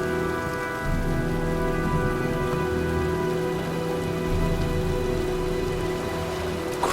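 Rain falls steadily as a storm arrives in the video game Heavy Rain, giving a dense, continuous patter with a low rumble of thunder underneath, without any speech.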